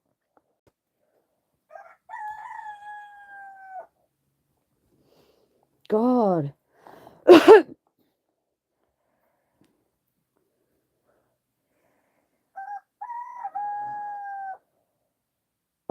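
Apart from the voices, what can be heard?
roosters crowing outside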